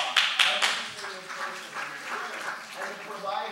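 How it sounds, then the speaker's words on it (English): Audience applause at a talk on dementia care, a burst of clapping that starts strongly and then fades into a softer, scattered patter. "Give yourselves a round of applause."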